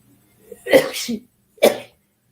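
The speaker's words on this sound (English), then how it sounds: "I think I'm going to sneeze" Two loud, close sneezes: a drawn-out first with a sharp burst, then a shorter second after a brief pause, followed by silence.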